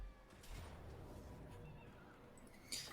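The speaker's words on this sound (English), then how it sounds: "Oh no, it's just a horse." A horse whinnies faintly in Total War: Warhammer II, a quiet, distant neigh over a soft background ambience.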